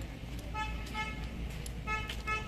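A car horn honks in repeated short toots outside a college entrance, over a steady low rumble of traffic.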